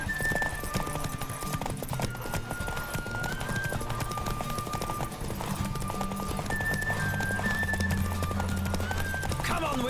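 A horse gallops at full pace in a race in The Witcher 3, its hooves clip-clopping in fast rhythm under game music, with a whinny and a voice calling out.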